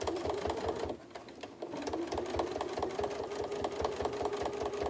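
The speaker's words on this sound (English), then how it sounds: "What I'm doing is I'm just re-stitching where the prairie points were." A sewing machine runs steadily, re-stitching prairie points along a trapunto cushion, its fast, even needle rattle close and continuous with a brief slowdown near the start.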